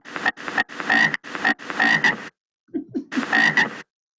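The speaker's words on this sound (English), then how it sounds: "Ribbit, ribbit, ribbit." A frog croaks in a rapid series of short, throaty bursts, two groups separated by a brief pause, clear and close.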